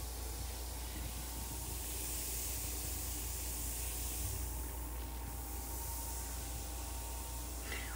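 A bath bomb fizzes in bath water with a continuous soft hiss and sizzle, steady and close, with no talking over it.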